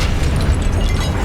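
Confringo blasting spell going off in Hogwarts Legacy, a loud, dense explosive roar filling the whole moment with steady rumbling force, no voices over it.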